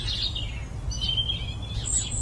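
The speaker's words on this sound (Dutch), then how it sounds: "En bij jou hoor je de mussen doorheen." Sparrows chirp faintly in the background of an outdoor recording: scattered thin, high chirps over a constant low rumble, with no voices.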